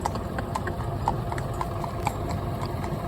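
A cob horse's hooves clip-clop at a steady walking rhythm, close and fairly loud, over a constant low engine hum from a running pump nearby.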